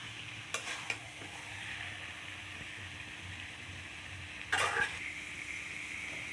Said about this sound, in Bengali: এখন আমি ভালো করে কষিয়ে নেব